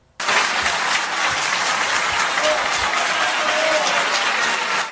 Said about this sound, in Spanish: aplaudiendo, gritándole bravo